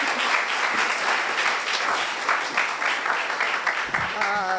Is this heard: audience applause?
yes